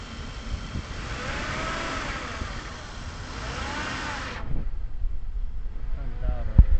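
An engine bay of a 2002 Pontiac Bonneville with its 3.8 engine idling under an open hood, a steady mid-range hum with a faint irregular sound. The engine cuts out partway through, leaving quiet handling noise and a sharp knock.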